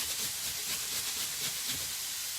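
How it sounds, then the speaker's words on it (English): A thumb of fresh ginger rasped steadily against a kitchen grater, giving soft, rhythmic scraping strokes over a continuous close hiss, with no voices. "we've got a thumb of ginger. Just going to do that. Just grate that."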